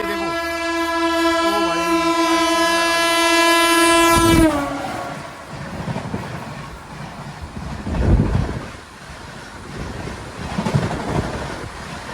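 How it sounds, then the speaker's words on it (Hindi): The Jannayak Express, running between Darbhanga and Amritsar, overtakes at speed close by, its loud multi-tone horn blaring for several seconds before giving way to a rushing roar and rhythmic wheel clatter; a voice briefly exclaims. "अब देखो भाई एक और बार हमारी ट्रेन का ओवरटेक हो रहा है भाई, क्या स्पीड आ रही है देखो"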